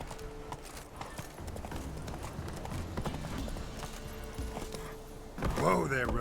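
Roach the horse gallops in The Witcher 3, hooves clip-clopping in a steady rapid rhythm close by, ending in a burst of a whinny-like snort, with game sounds underneath.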